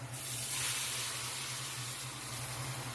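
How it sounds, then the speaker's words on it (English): Caramelized white onions sizzle steadily in a pan as broth is poured in to deglaze, a continuous close hiss with a low steady hum underneath. "Now that our onions are starting to get caramelized, I'm gonna start adding some broth."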